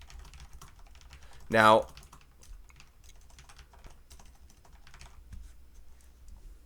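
Typing on a computer keyboard during a geometry math lecture: faint, scattered key clicks throughout, broken by one brief, louder rising chirp, with a short spoken word.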